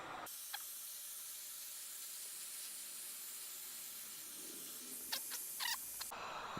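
A heat gun warming glue on a felt-covered patch panel, giving a faint, steady airy hiss that runs throughout, with a few soft knocks and rustles near the end and no talking.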